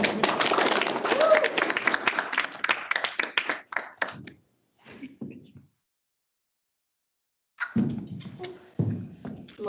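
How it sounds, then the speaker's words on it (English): Audience applause after a student survey presentation, a burst of close clapping that quickly thins into scattered claps, falls silent, then returns as a few sparse claps and some talking. "And I do insist on applause."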